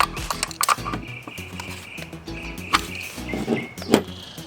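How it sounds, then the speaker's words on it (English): A hand ratchet tightens brake caliper bolts on an EMOVE Touring electric scooter, irregular clicking and metallic ticks at close range with small clanks of tool on metal. "I'm going to go ahead and tighten these bolts down again one more time"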